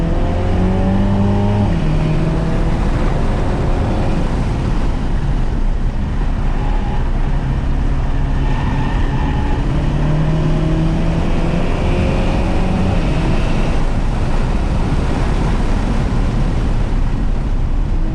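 A 2021 Mini Cooper John Cooper Works GP at speed on the Waterford race track: loud, constant in-car engine roar with rising and falling revs through gear changes and wind and road noise throughout.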